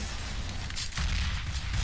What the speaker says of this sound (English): Could dunk nade down to the bottom of Banana, but somehow that doesn't do a whole lot of damage.